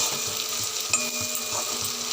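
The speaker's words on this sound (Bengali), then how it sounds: "এবার ভালো করে ভাজা করে নিয়ে সামান্য জল দিয়ে কষাবো" Spices with cumin, coriander and chilli powder frying in a pan for a duck egg and potato curry: a steady, close crackling sizzle with soft stirring scrapes.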